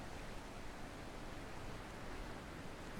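Steady, dense rushing wash of water from a waterfall in the puzzle game The Witness, a constant broadband roar with no breaks, moderately loud and unchanging across the whole stretch, with no voices.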